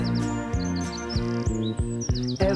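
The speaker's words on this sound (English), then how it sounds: "All the birds are singing and the day is just beginning." Birds chirp and tweet in quick repeated calls over a bouncy musical backing with a regular rhythmic pulse, bright and clear in a children's animated morning scene.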